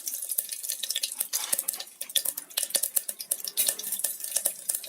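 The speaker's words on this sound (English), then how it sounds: "After that, heat some oil. Add some mustard seeds." Mustard seeds sizzle and pop in hot oil, with rapid irregular crackles and spits, close and fairly loud, under faint clinks of a utensil against the pan.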